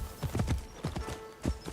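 Horse hooves clip-clop in a steady trotting rhythm from a video game horse, close and fairly loud, with a few distinct strikes spread across a short stretch and no talk over them.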